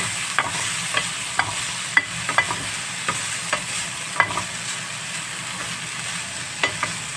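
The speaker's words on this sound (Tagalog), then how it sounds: "pwede nang ihalo sa ating sinangag ihalo na natin guys" A utensil stirs chicken into garlic fried rice in a non-stick pan, giving soft, irregular scraping taps over a steady low frying sizzle, close by and with no talk.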